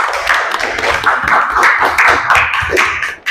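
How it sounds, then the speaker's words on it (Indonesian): Steady applause from a class for group 2 after a volleyball forearm-passing lesson, a dense run of many hands clapping at close range for several seconds with no talk over it. "Oke, beri aplaus untuk kelompok 2."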